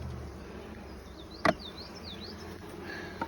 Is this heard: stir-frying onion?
no